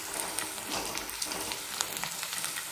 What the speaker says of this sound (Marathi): आता कांदा लालसर तळला गेला